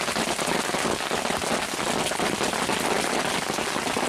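Hard hail pelting down in a heavy storm during an Idaho bear hunt, dime-to-quarter-sized stones making a loud, dense, continuous patter close by with no talk over it.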